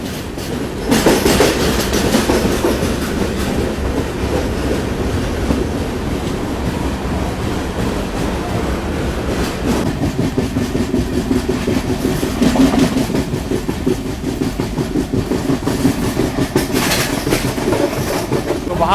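The Konkan Kanya Express passenger train running through a tunnel: a loud, unbroken roar and rumble with rhythmic wheel clatter on the rails throughout.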